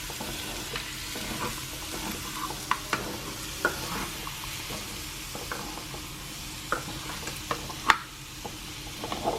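Onion fries in a pan for a Manipuri-style chicken curry, giving a steady close sizzle with scattered small pops and light clinks of utensils. No one speaks.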